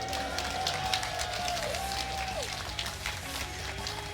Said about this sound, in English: can I get a round of applause for the hero of Sweden,